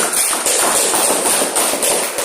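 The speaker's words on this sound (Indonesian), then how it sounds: "Berikan apresiasi atau aplaus dulu." Applause fills a classroom, with a dense, continuous patter of many hands clapping close by at steady loudness, with no voices.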